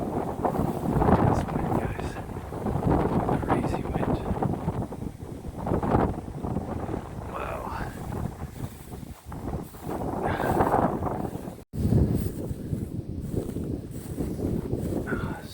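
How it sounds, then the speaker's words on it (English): Strong, gusty wind roars and buffets the microphone continuously outdoors during Pennsylvania deer season, with a person talking over it at times. "It's a crazy wind though. Look at this wind."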